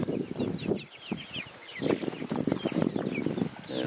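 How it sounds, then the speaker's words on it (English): A flock of about twenty half-grown chickens forages on grass, giving off soft, overlapping clucks and high peeping chirps in scattered bursts, close by, with faint rustling between calls. "half-grown chickens"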